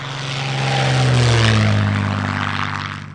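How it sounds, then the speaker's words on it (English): A P-51 Mustang propeller fighter comes in to land at an airshow in Leszno, its loud piston engine drone swelling as it passes close by the runway threshold, with a falling pitch, then fading slightly. "So the Mustang into land from our runway threshold vantage point"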